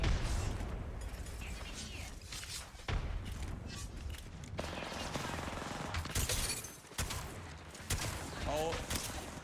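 Gunfire in a video game, with dense bursts and thumping shots, explosions and shattering, loud and continuous throughout, with players' voices now and then over it.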